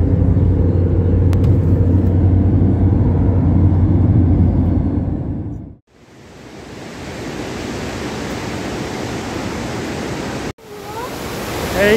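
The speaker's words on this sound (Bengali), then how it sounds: "এই হচ্ছে জোনহা ফলস" Jonha Falls near Ranchi roars as a steady, loud broadband rush of water. It takes over midway, after a muffled low rumble like the inside of a moving car.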